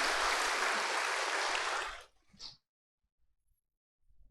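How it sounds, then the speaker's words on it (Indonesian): An audience at a question-and-answer session of a Dhamma talk claps in a dense, loud burst of applause for about two seconds, which stops abruptly and gives way to near silence. "So clap your hand for it."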